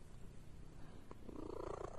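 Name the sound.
cat purring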